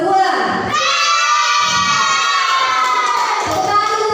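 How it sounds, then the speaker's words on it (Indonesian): Schoolchildren in a classroom cheer and shout together for group 2 after the reading reward, a loud, steady crowd of young voices with some clapping mixed in. "Tepuk tangan untuk kelompok 2."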